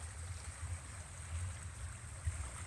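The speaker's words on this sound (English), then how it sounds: "And we're down at the actual river now." River Cuckmere running high and swollen after heavy rain, a steady low rushing flow of water heard up close, with no talking.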